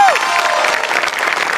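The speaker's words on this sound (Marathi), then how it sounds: "एकदा जोरदार टाळ्या झाल्या पाहिजेत माझ्यासाठी." An audience at a Marathi comedy show stage claps, a dense steady wash of applause that fills the short moment, fairly loud, following a brief sliding tone at the start.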